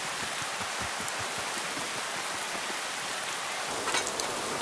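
Steady rain in the video game Fallout 4 patters continuously, with a soft, even hiss of drops on surfaces and no talking.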